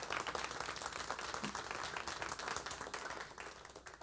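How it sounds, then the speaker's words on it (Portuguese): A church congregation claps during a family service, a faint, dense patter of many hands spread evenly through the room. "Aplauda o Senhor, aplauda."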